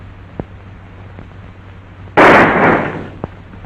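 A single loud gunshot rings out in an old western film, a sharp close blast with a short decaying tail, set against a quiet background with faint ticks before and after.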